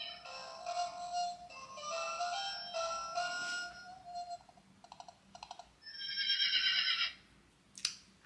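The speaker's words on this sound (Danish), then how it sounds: "Og så siger den også noget sådan, som en hest." A toy horse gives electronic neighing and whinnying calls in several bursts with short pauses, shrill and close, alongside a few light clicks and no talk.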